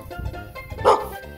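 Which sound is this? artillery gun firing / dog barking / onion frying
dog barking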